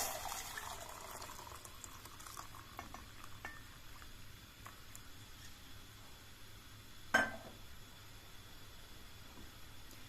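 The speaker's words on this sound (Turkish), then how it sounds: "Kaynar suyu çaydanlığımın içerisine döküyorum." Boiling water is poured into a teapot for cleaning it, a soft faint liquid trickle running through most of the span, with one brief clink near the end.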